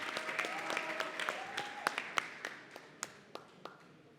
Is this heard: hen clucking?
no